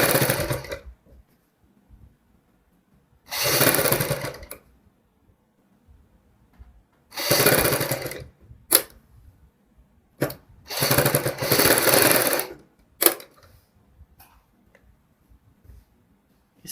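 A sewing machine stitches a sweetheart neckline on a kurti in bursts of steady whirring, four or five runs of one to two seconds each, separated by quiet pauses and a few short clicks.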